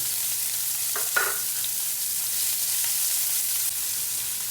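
Chicken hearts and bitter gourd frying with red chili in a pan, giving a loud, steady sizzle with a few brief stirring clatters near the start.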